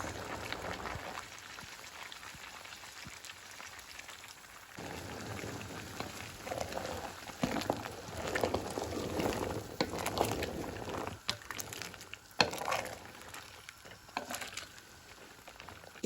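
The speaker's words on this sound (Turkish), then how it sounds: "Tatlımız çok güzel bir şekilde kaynıyor." A pot of pumpkin dessert boiling in syrup bubbles and pops softly and steadily, with faint irregular patters throughout.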